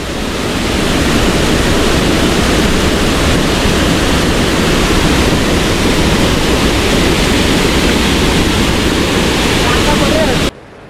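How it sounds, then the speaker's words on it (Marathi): A loud, unbroken roar of a stream flooded by torrential rain fills the whole stretch, dense and close, then cuts off abruptly at the end. "ओढ्यातलं जे काही पाणी होतं ना ते एकदम रौद्र रूप धारण करू लागलं"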